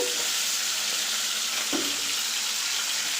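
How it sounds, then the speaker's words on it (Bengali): Fish frying in hot oil gives off a dense, even sizzle close by, with a single soft knock partway through and nobody speaking. "এই যে আমি মাছটা ভেজে নিচ্ছি"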